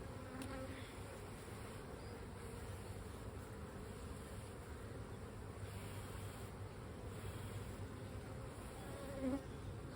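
A dense, steady hum of honeybees fills an open hive during an inspection, close and continuous for the whole stretch with no talk over it.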